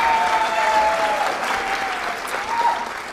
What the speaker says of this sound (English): So I'd like you to thank, give a round of applause for Monica.